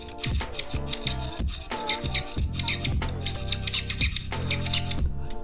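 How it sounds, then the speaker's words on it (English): The strap lug on a Canon A1 film camera scratches as it is moved back and forth, giving a close, loud, rhythmic rasping scrape that repeats in quick strokes with no talking. "it should not make this kind of scratching sound"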